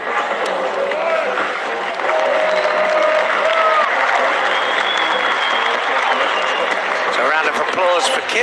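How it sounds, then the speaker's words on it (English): Steady crowd applause fills a judo world championships arena as a bronze medallist walks off, with loud continuous clapping and a commentator talking over it throughout. "Applause for Kim as he comes to the dugout here."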